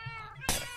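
A cat meows in a Minecraft game, a drawn-out harmonic cry followed by a sudden louder broadband burst, heard clearly over low game background with no talking.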